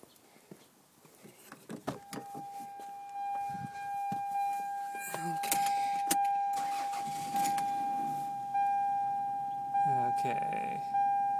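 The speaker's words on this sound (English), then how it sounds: "So I'm gonna go start up the car right now." Car engine being started while a seatbelt chime and dashboard warning tones sound, with keys rattling and brief cranking before the engine runs; someone talks over it.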